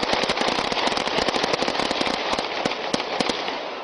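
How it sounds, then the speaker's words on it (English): Police gunfire, a dozen officers firing over a hundred rounds at a car, comes through as a dense, continuous volley of rapid cracking shots, loud and relentless with no gaps. "It rolled to a stop for a minute when police opened fire."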